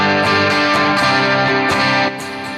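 Electric guitar run through a Line 6 Helix DC30 amp model, a loud driven tone with strummed chords and ringing sustained notes, alone, then an abrupt drop in level near the end.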